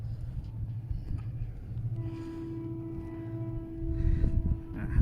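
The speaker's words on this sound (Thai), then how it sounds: "เสียงรถไฟก็ใกล้เข้ามาแล้วครับ" A freight train rumbles closer near the Thai-Lao Friendship Bridge in Nong Khai, its low roar and a steady mechanical whine building and growing louder toward the end, with no talking.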